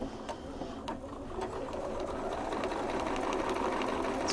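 A Baby Lock sewing machine stitches cotton fabric in a steady, fast, close mechanical whir that continues unbroken and grows slightly louder, with no voices.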